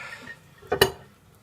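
A metal ladle and spoon clinking in a cooking pot of rendang, two quick bright knocks close by in a quiet kitchen.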